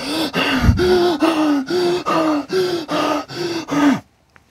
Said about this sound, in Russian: он очень шумно, быстро и глубоко дышит